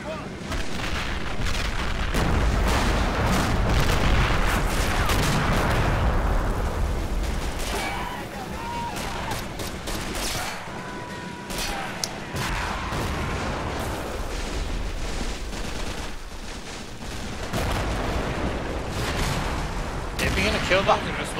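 Mortar and artillery fire in the war strategy game Men of War: Assault Squad 2, with dense, continuous booming explosions and gunfire rumbling throughout, brief lulls in the middle, and a voice talking over the battle.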